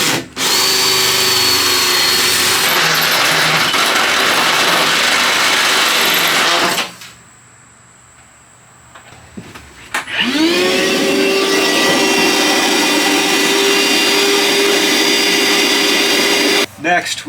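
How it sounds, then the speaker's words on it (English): A drill runs an inch hole saw through the floor of a Promaster van, making a loud, steady whine with a grinding edge. It stops for a few seconds, then spins up and cuts again, close by. "I'm using the inch hole saw for this."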